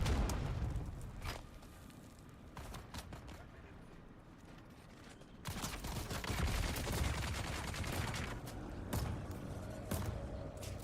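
Turret and grenade gunfire in the game Dune: Awakening, dense bursts of shots and booms rolling continuously, growing louder and heavier about halfway through, with scattered sharp reports over a rumbling background.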